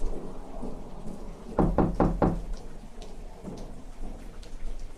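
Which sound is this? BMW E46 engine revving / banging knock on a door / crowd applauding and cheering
banging knock on a door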